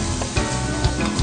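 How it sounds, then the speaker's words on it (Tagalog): Garlic and boiled abal-abal beetles, with wings and legs removed, sizzle and hiss steadily in a hot pan, with a faint scrape or two of stirring, close and fairly loud. "Naggisa ng bawang at ang pinakuluang abal-abal."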